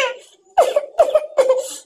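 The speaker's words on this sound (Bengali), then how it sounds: "ঠান্ডা লেগে গেছে, কাশি হচ্ছে, তাই না?" A child with a cold coughs in three short, close bursts at moderate loudness, the quiet stretch before them broken only by faint room sound.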